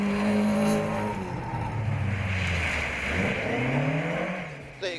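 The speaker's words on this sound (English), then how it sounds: "The Escort looking and sounding the goods in the crisp air of the Grimwade forest." A Ford Escort rally car races along a gravel forest stage at the Grimwade Stages, its engine revving and shifting through gears as it passes, set against steady outdoor rumble.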